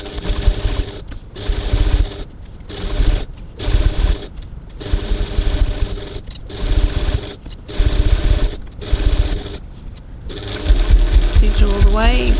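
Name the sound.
sewing machine stitching handbag fabric near the edge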